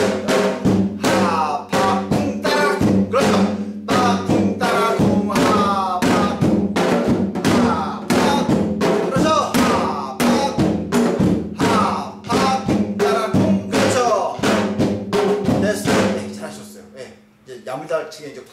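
A janggu, the Korean hourglass drum, is played with a fast, steady stream of deep kung and sharp ttak strokes, loud and close, with voices running along with the rhythm.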